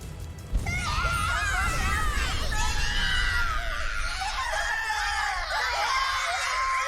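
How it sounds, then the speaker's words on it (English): Screams of burning victims from downed vessels in the Drakengard 3 video game, a dense chorus of shrill, wavering cries and wails that begins abruptly and continues, loud and overlapping, before fading slightly. "The screams of burning victims rang out from the downed vessels"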